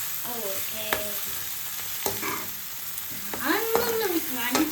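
Mushrooms being stir-fried in a pan make a loud, continuous sizzle with scraping and stirring strokes, close up, alongside sliding squeaky tones from the utensil.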